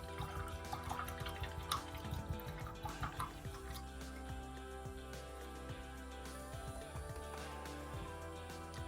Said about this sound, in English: Wash that brush off and wipe it off.